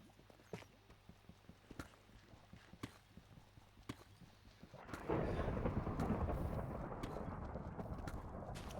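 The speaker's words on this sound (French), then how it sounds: "En ce moment même, il y a de l'orage." A thunderstorm in Minecraft rolls in with a sudden loud rumbling burst of thunder that swells and lingers, following a stretch of steady clip-clop hoofbeats.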